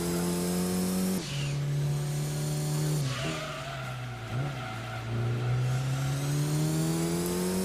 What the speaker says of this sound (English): Look at that Corvette spin out.